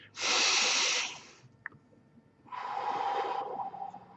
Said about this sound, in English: Breathing in through the nose and then out through the mouth.